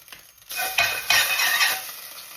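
Macaroni sizzling as it sautés in butter in a pan, a bright crackling hiss that swells after a quiet start and stirs steadily for about two seconds, with no talking.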